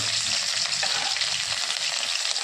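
Green chillies frying with cumin seeds in hot oil, a steady, close, loud sizzle with no pauses and no voices.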